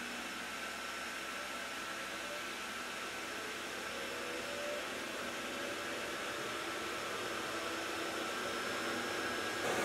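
An xTool S1 40W diode laser cutting plexiglass gives a steady, even mechanical whir with airy hiss, probably from its fan or air assist, holding at a constant level throughout with no voices.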